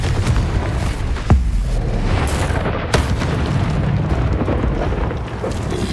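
A Confringo fire spell explodes during combat in Hogwarts Legacy, giving sharp booms over a dense, loud layer of continuous battle noise.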